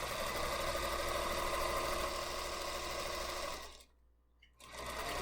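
A sewing machine runs steadily while stitching a quick fabric table runner, a loud continuous motor whir that cuts out briefly near the end, then starts up again.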